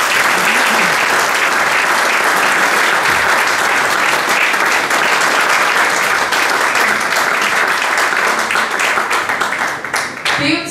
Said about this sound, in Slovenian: Čestitke, en aplavz.